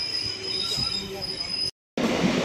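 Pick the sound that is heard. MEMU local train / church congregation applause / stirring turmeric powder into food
MEMU local train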